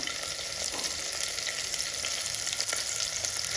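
Onions and curry leaves frying in a pan for a black-eyed bean curry, a dense, continuous hiss of hot oil with faint stirring scrapes throughout.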